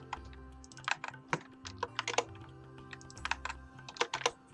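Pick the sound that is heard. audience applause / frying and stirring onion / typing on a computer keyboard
typing on a computer keyboard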